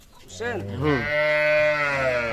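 Cow with a calf at a cattle market in Dinajpur, lowing close by: two short rising calls, then one long, loud, sustained moo.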